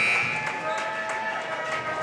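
Game-end buzzer at a high school boys' basketball game, a loud sustained electronic tone at the start over crowd noise in a gym, with a commentator talking throughout.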